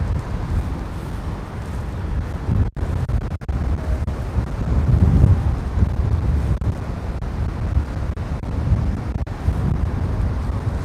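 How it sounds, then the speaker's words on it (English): Strong wind buffets the microphone on a beach in Can Pastilla, Mallorca, a continuous loud low roar with gusty surges and a few sharp dropouts. "I can feel my coat and my bag is just literally being blown around."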